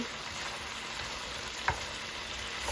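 Pork spare ribs fry in a pan for a Chinese recipe, a steady close sizzle with one brief clink of a utensil, no talking.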